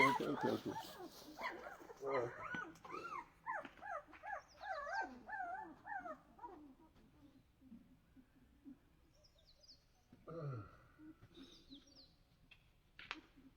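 A dog whimpering and yelping in a series of high whines, close by, then quieter with a brief bark-like sound later.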